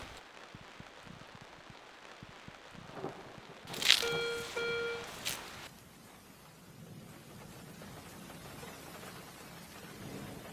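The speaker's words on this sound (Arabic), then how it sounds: "حتى المطر الله يبارك ينزل" Rain falls in a steady outdoor patter, with a brief louder burst of mixed noise partway through before the even hiss returns.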